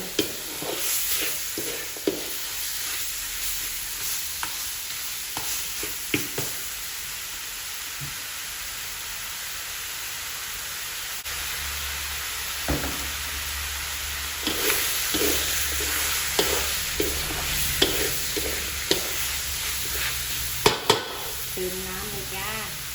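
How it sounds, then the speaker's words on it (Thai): Spicy Thai stir-fry of pork leg with curry paste, stirred in a pan: steady broadband sizzle with repeated scraping stirs throughout, close and moderately loud, with a faint voice at times. "ผัดให้หอม ผัดให้หอมก่อน"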